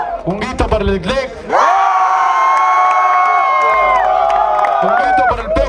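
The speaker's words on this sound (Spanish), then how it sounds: "Un grito para el Glec." A crowd at a freestyle rap battle final roars with loud sustained cheering, whoops and shouted voices that swell after a burst of shouting and stay dense and close throughout.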